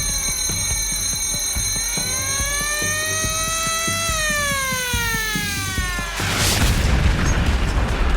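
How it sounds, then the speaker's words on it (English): A torpedo striking a ship in wartime, heard as a loud boom and rush of blast noise near the end. Before it, sustained tonal alarm-like sweeps rise and fall over a steady rhythmic pulse. "Nothing can prepare you for the impact of a torpedo for the first time."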